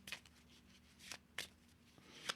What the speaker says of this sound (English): maybe give another shuffle real quick